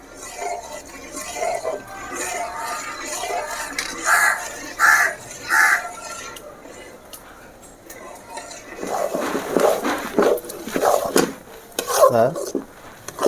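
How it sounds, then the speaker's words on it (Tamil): Milk made from ration rice being stirred in a pan for rice halwa, a spoon clinking and scraping against metal in bursts, with a voice talking at times and a crow cawing in the background. "இதை இப்படியே நம்ம கிளறி விட்டுக்கிட்டே இருக்கணும்"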